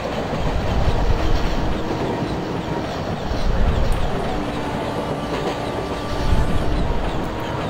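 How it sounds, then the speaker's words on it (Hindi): A long WAG9 electric-hauled freight train of BTPN tank wagons rolls past in the Open Rails train simulator, a continuous rumble with rhythmic clickety-clack of wheels over rail joints, fairly close and loud. "ये WAG9 फ्राइट ट्रेन BTPN हमें क्रॉस कर रही है"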